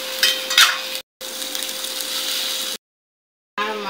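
Chicken breast simmers in a pan for ketchup-sauce chicken, a steady soft sizzle and bubble broken by brief silences, with a constant faint hum underneath.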